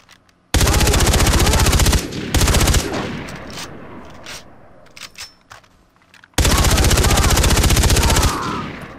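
Loud, sustained automatic machine gun fire in Far Cry 3, in long continuous bursts near the start and again toward the end, with quieter scattered shots and game noise between.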